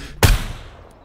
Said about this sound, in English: I'm gonna have to shoot at them here.